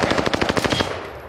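Automatic gunfire in a shooter video game, a rapid burst of close, loud shots firing in quick rhythm for about a second before trailing off into quieter game ambience.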